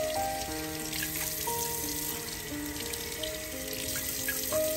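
Water splashes and trickles as it is poured over a small hole in an aluminium pop can, a steady bright pattering with ringing tones throughout, with no talking.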